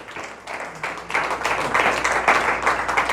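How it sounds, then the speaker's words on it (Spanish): Applause from a church congregation builds from scattered claps into a steady, fairly loud round of clapping from a crowd, with some voices faintly mixed in. "Dele un aplauso al Rey."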